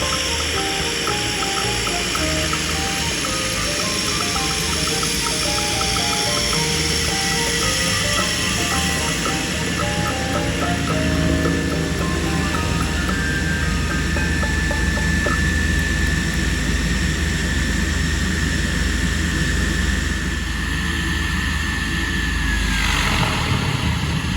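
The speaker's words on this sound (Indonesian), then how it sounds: "pesawatnya datang, kita siap naik pesawat" A Susi Air propeller plane arrives at an airstrip on the Kabare to Sorong route, its engines droning loudly and continuously for the whole stretch, the pitch shifting slightly as it approaches.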